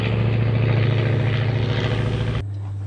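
A propeller biplane drones loudly overhead, a steady close engine roar with a low harmonic hum that cuts off abruptly near the end, leaving a fainter residual drone.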